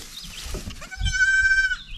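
A young goat lying in a hay feeder gives a single clear, drawn-out bleat lasting under a second, close to the microphone over a low background rumble.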